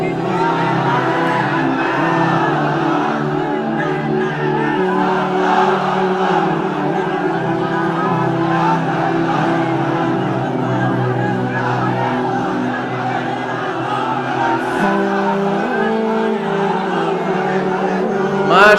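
A crowd at an Islamic sermon shouts takbir back at the preacher, a loud, sustained mass of voices chanting together for the whole stretch.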